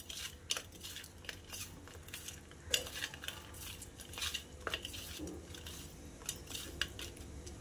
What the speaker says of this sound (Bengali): দিয়ে আমি নুন হলুদটা মাখিয়ে নেব ভালো করে মাছে।